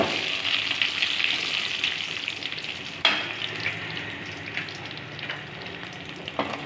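Dried chillies sizzle in a hot pan for a mustard curry, a dense, continuous crackle close by, with stirring scrapes and a sharper burst of spitting midway, and no voices.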